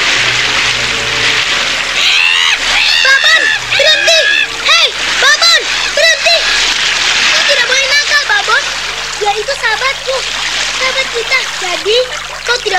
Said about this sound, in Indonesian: Lalu dia terpelanting dan tercebur ke dalam sungai.